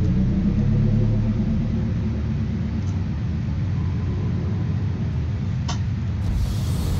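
A continuous low engine rumble from a vehicle driving in a video game holds steady throughout, with a couple of faint brief clicks.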